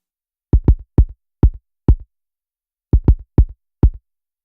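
Nine dry, punchy thumps from a synthesized kick drum with its click layers muted land in two short rhythmic bursts, each hit rounded and soft-edged with no sharp attack, separated by clean silence.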